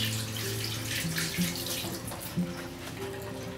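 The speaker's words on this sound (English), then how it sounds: "now I'm going to rinse my hands before I use the lemon" Tap water runs steadily into a sink while hands are rinsed under it in a kitchen, a close, continuous splashing wash with small shifts as the hands move through the stream.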